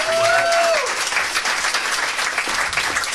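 Loud, dense audience applause at a live comedy podcast taping, steady clapping and cheering filling the room throughout, with a brief whoop near the start.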